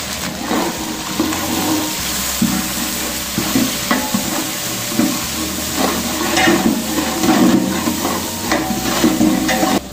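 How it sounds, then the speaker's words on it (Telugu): Onions sizzle steadily in oil in a pan with peanuts, curry leaves and chilli while a utensil stirs in repeated scraping bursts, close and fairly loud throughout, no voices. "ఆనియన్స్ గోల్డ్ కలర్ వచ్చే వరకు ఫ్రై చేసుకోవాలి"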